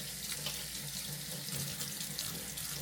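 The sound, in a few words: scrubbing a surface with hot running water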